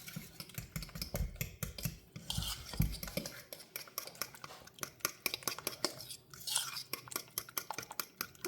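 Apples being peeled and sliced with a knife at close range, giving a run of quick, light scraping and clicking cuts with no voice.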